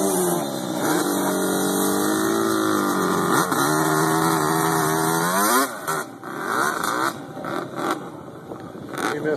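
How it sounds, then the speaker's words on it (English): Quad ATV engines roar and strain as the riders climb a sand dune, a loud sustained rising whine that wavers with the throttle, then breaks into choppy revving and bursts as momentum fades. "Here comes the quads"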